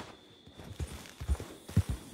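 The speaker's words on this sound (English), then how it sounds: "Get on the fucking horse." A horse's hooves clip-clop in the Red Dead Redemption 2 video game, irregular thudding steps that start faint and grow heavier and closer over a quiet background.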